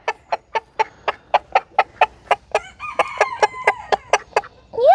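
A rooster on a backyard chicken coop crows loud and close, cutting into a rapid, steady run of clucking calls from the flock, with a second call rising at the end.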